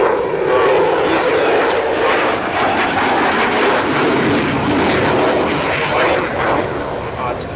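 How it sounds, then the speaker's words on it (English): A jet at the 2012 Aalborg airshow in Denmark rolls with full afterburner, a loud, continuous broadband roar filling the whole clip while a commentator speaks over it. "On the jet, going into a roll, full reheat is on."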